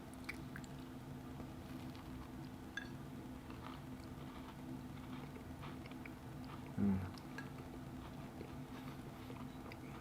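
Quiet, close chewing of a powdered doughnut with a hard outer shell and soft inside, soft rhythmic bites and mouth sounds over faint background hum.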